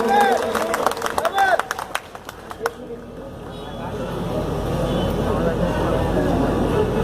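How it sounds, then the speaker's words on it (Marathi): Scattered clapping and crowd noise at a live Ambedkarite music show in Dombivali, a few sharp claps at first that give way to a rising, steady wash of audience murmur and applause. "जोरदार टाळ्या"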